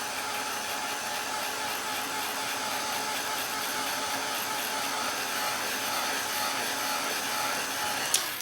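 A hair dryer runs continuously over acrylic paint, giving a steady, loud, even whoosh with no pauses for about eight seconds. A small click is heard near the end.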